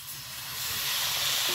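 Water poured into a hot pan (kadai) of jaggery, coconut and crushed nut filling, giving a rising steamy hiss that builds and holds steady, alone.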